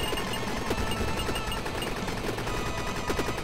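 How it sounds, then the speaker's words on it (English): Gunfire in the Cavern Kings PC game, fired into the ground in a snowy area: a steady, rapid string of shots at moderate level, alone with no talk. "Now, why am I shooting at the ground, Tom?"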